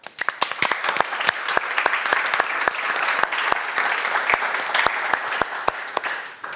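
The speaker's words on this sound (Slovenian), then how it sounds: "tako da en aplavz." Audience at a Slovenian business leader of the year award event breaks into sustained applause, a dense crowd wash punctuated by sharp, distinct claps throughout, loud and close.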